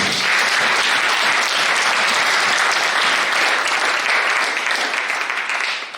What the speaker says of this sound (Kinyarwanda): Tumuha amashyi menshi.